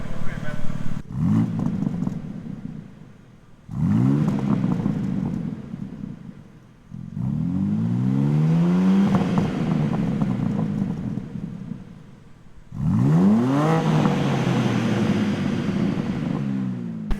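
A BMW M3 Competition revs hard in four separate bursts, each rising and falling in pitch with a deep rumbling exhaust note. Gaps of near quiet fall between the bursts, and wind noise buffets the microphone.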